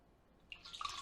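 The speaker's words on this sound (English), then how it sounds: "And then we can put our water here." Water poured into a casserole dish while making chicken noodle casserole: after a quiet moment, a short, faint, splashy pour with light trickling.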